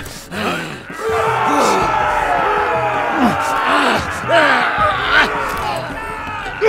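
An arena crowd in a Game of Thrones video game roars, cheers and yells continuously, loud and sustained with rising swells of shouting.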